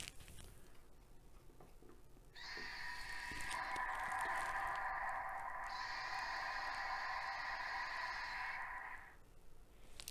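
Mechagodzilla Godzilla ornament toy playing its built-in electronic sound effect, a faint, tinny sustained roar lasting several seconds, coming from a small speaker before cutting off into quiet room tone.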